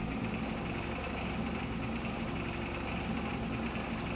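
Vehicle engine running in Farming Simulator 22, a steady low droning hum with no change in pitch, quiet and even throughout, with no voices.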